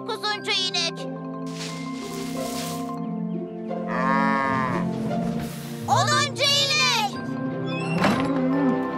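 Cattle moo several times in the Thomas and Friends cartoon, long drawn-out lowing calls over background music, with narration spoken between them.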